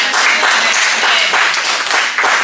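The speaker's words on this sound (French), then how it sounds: "On applaudit le Seigneur." A church congregation applauds at a French-language conference service, steady dense clapping from many hands filling the room, loud and continuous throughout.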